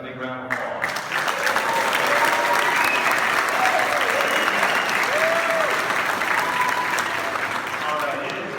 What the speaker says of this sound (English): them a big round of applause.